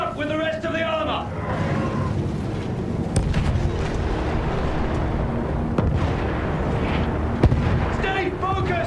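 Field gun artillery booms and explosions in Battlefield 1 roll through a dense, loud wartime din, with heavy blasts and sharp cracks under urgent shouted voices.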